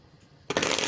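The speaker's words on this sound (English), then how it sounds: "I'm going to add some more cards and shuffle them in" Tarot cards being shuffled by hand, a short papery riffling burst that starts abruptly after a moment of quiet and runs loud and close until the end.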